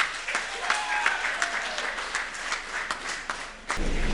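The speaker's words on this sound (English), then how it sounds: "a big round of applause for Professor Ngeyi Kanyongolo" An audience applauds a speaker at a formal presentation, a dense steady patter of many hands clapping close by, continuing for several seconds with a brief swell near the end.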